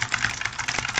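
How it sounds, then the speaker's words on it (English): Fast, loud clatter of a computer keyboard being typed on, a dense run of sharp keystrokes close to the microphone. "My keyboard is not quiet."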